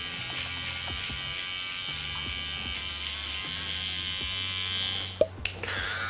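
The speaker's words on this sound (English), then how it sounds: "That was my soft trimmer." Soft electric beard trimmer buzzing steadily while fading and trimming a bushy beard, a close, continuous hum with rhythmic low pulses, ending in a few sharp clicks as it switches off.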